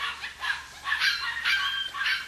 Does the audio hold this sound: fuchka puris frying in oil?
no